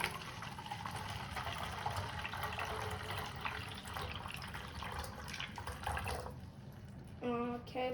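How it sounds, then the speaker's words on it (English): Water pours steadily into a container as a broad continuous splashing rush, with a faint voice underneath and a brief clinking near the end. "I'm going to pour the water in"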